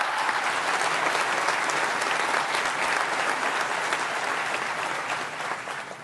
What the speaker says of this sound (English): I think she also deserves another round of applause